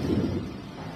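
A deep, brief rumble of thunder during a rainy-season storm in leopard country, loud and close, fading across a single second with no voices.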